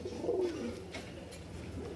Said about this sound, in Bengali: এখানে এক পেয়ার কবুতর দেখতে পাচ্ছেন